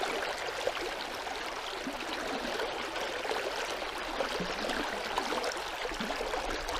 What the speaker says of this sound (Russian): я вот облавливаю сам бурлилку, так скажем, сам бурный поток